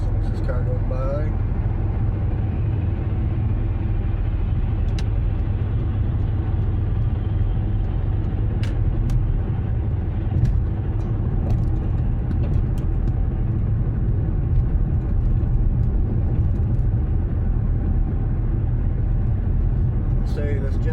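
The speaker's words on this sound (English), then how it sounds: "as soon as this car goes by" Steady engine and road rumble of a passing car heard from inside a Jetta driving on a winter road in Bangor, Maine, a loud continuous drone throughout with faint talk under it.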